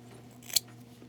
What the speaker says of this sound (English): we are going to cut our yarn now. So let's grab our scissors.